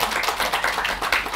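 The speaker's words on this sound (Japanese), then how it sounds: "いや温かい拍手が。" Warm applause from an audience at a political school event with a film screening and after-talk, a brief, close burst of dense clapping with no talk over it.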